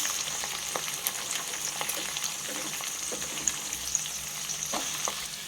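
Capsicum, beans, carrot and spring onion fry in a pan for vegetable pulao, giving a steady close sizzle with occasional soft stirring clicks and no talking.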